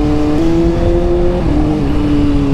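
A 2012 Kawasaki ZX6R accelerates hard, its engine note held as a loud, close, sustained tone that climbs and then drops briefly at each quick-shifter gear change.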